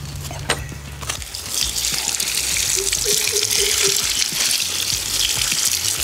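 Running water pours over a rope grater woven from natural creeper as it is rinsed, a steady close splashing and trickling that builds after a brief knock at the start and carries on without talk.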